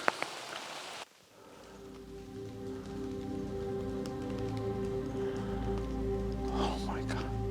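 Rain falls steadily outdoors on a grey landscape, a soft, even patter of drops on surfaces and foliage that follows a brief louder burst at the start and continues alone.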